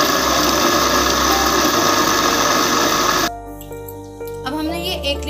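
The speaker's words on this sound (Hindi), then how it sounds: "कैप लगा के अब मिक्सी में इसको पीस लेंगे." A mixer grinder blending peaches with sugar and salt runs loudly and steadily, then winds down partway through as its motor stops, leaving a quieter tail with faint background sounds.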